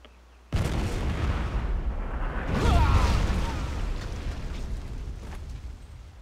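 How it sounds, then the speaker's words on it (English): Cannon fire in the action RPG Jade Empire: a sudden loud blast, then a sustained rumbling barrage of booms and explosions that swells around the middle and gradually eases off. "So now we get to dodge cannons."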